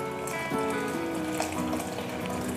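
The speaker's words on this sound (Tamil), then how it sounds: "இப்போ நான் ஒரு வடிகட்டி வச்சு இந்த வெல்லத் தண்ணியை வந்து நான் வடிச்சுக்கறேன்" Jaggery water is poured through a strainer while making ash gourd (thattaipoosani) payasam, giving a steady, continuous close-up trickle and splash of liquid with no talking.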